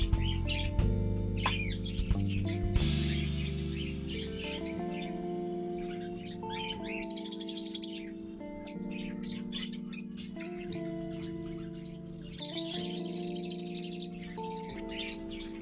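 Many small budgerigars chirp and chatter continuously at close range, with tonal warbling calls and squeaks layered over steady background noise.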